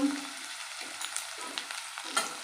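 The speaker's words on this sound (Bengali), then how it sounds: "এবার তেলের মধ্যে আলুগুলো দিয়ে দেবো" Steady sizzling of potatoes frying in hot oil with turmeric and salt, with occasional stirring scrapes and light pops, close and moderately loud, no talk.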